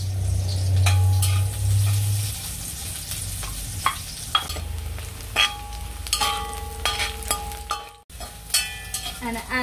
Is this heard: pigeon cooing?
no